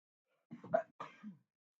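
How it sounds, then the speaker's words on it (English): A single close sneeze, a sharp two-part burst with a quick intake and release, alone in a quiet room. "Sorry, I had to sneeze."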